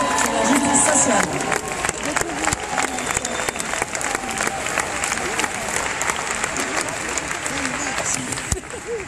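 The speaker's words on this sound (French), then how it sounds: "je vous invite à applaudir Philippe de Courroux qui va nous partager sur la justice sociale" Audience applause at a social justice talk welcoming the next speaker, dense and steady clapping from a crowd throughout, slightly louder at the start, with faint voices mixed in.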